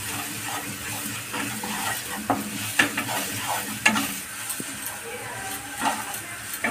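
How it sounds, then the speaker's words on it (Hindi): Spice masala of cumin, coriander and chilli powders fries in a pan, a close sizzle under frequent spoon scrapes and knocks against the metal in an uneven stirring rhythm. "1 चम्मच मिर्ची डालकर हम मसाला भून लेते हैं अच्छे से।"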